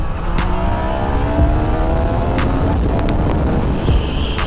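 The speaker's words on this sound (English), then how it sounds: "2019 Yamaha Niken, the infamous two front wheels that feels like a single wheel, like I'm riding right now" A 2019 Yamaha Niken three-wheeled motorcycle on the move, a steady engine hum mixed with strong wind rush, recorded close from the rider's position, with a few sharp clicks near the microphone and no clear talking.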